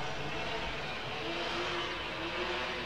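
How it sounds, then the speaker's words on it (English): A string trimmer revved hard in a village street, a steady loud buzzing engine drone that holds throughout with slight surges, close by and without talk. "Sorry about the strimmer guy who feels he has to keep revving it."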